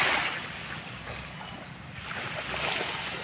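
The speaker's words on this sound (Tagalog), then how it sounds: "Nakaka-relax talaga, guys, pag nandito tayo sa tabing dagat." Sea waves wash steadily onto a beach on an early, hot morning, a continuous broad rush of surf that swells slightly toward the end, with some wind buffeting the microphone.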